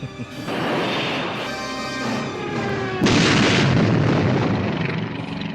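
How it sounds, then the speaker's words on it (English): A loud, rumbling film explosion from the 1964 James Bond film Goldfinger, with crashing debris and a deep roar that swells midway and sustains, mixed with tonal mechanical hum. "Explosion."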